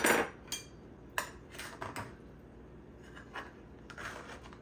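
A knife or server cutting into a sopapilla cheesecake in its baking pan, giving a series of sharp metallic scrapes and taps spread irregularly over a few seconds, close and fairly quiet with no talking.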